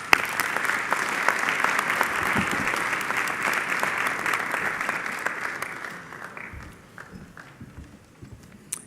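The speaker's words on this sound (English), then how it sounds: "Please give these gentlemen a round of applause." A ceremony audience applauds steadily and densely for about six seconds, then the clapping thins out and fades into scattered claps and light room noise.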